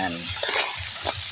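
Crab stirred in a hot pan, a brief loud burst of sizzling with scraping spoon strokes, close up and alone.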